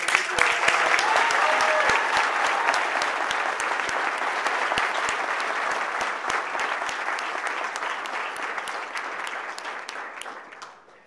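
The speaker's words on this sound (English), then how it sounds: "So I want everybody to give her a round of applause" A crowd at a multiple sclerosis charity dinner claps steadily in sustained applause, loud at first, then gradually thinning and fading out at the end.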